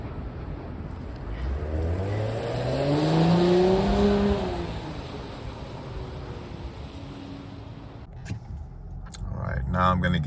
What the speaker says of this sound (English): I'm going to have some footage of me driving on the freeway